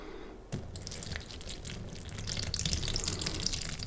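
Milk or cereal poured from high into a bowl of Cap'n Crunch All Berries, a sudden start then a continuous splashing, crackling patter that grows slightly louder, close up with no voices.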